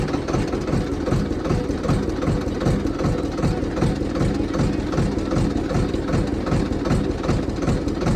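A tractor engine runs steadily close by with a regular low knocking throb, holding an even idle-like chug throughout and no voices.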